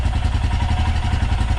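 A motorcycle engine just after a cold start, idling close by with a steady, lumpy, rapid pulsing beat that holds even for the whole stretch.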